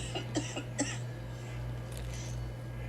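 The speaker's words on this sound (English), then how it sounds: "That is the driest, fakest cough I've ever heard in my life." A series of short, dry, fake coughs in quick succession over a low steady hum, followed by quieter room noise.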